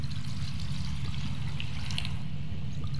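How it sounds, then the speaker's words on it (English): Water poured in the video game Darkwood makes a steady splashing trickle, close and continuous for a few seconds over a low hum, with no talk. "Switch into pour mode by pressing right click. And press left click to pour."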